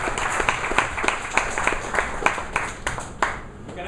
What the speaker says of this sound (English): So big round of applause for Muskan.